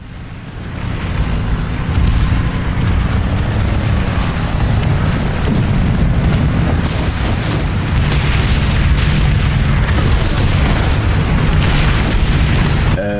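Prowler tank cannon fire in the video game Planetside 2: loud, heavy booming blasts that merge into a continuous, dense rumble and roar for the whole stretch, with no talking.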